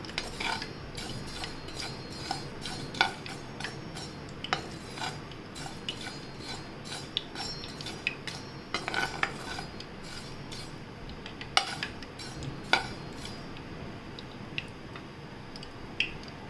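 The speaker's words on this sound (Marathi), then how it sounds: "आता आपण तीळ भाजून घेऊया।" Sesame seeds are dry-roasted in a pan, a faint continuous rustle with scattered sharp ticks and scraping clinks of a spoon against the metal, no voices.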